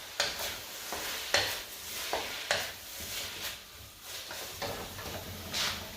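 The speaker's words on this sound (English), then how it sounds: "It's a stir fry." Chicken, shrimp, bok choy, onion and peppers stir-frying in a pan, with a soft steady sizzle broken by repeated scraping and tapping strokes of a spoon, close and fairly quiet, no voices.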